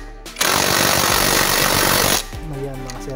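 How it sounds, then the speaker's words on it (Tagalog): A pneumatic impact wrench hammers the clutch housing nut tight on a Rouser 135 motorcycle, one loud continuous burst of rattling impacts lasting nearly two seconds, close up, then cutting off into quieter workshop sound. "Tapos tirahin natin ng impact wrench ulit."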